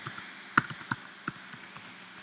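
Computer keys clack in a quick, uneven run of light taps, close and fairly quiet, as a comment is typed.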